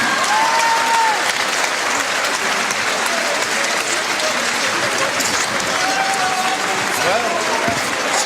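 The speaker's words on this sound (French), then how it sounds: "mesdames et messieurs, vous pouvez les applaudir parce que là encore, ils ont été 2." A boxing crowd applauds loudly and steadily after a professional fight ends in a technical knockout in the tenth round, with a ring announcer speaking over the dense clapping.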